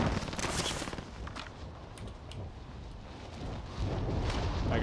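Video game gunfire crackles in dense rapid bursts at first, then thins to scattered distant shots under a rumbling background before swelling again toward the end.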